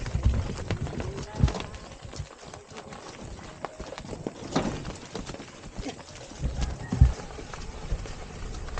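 Carabao walking on a ride in Mindoro, hooves giving soft irregular clops over steady outdoor noise, with occasional thumps and no talk over it.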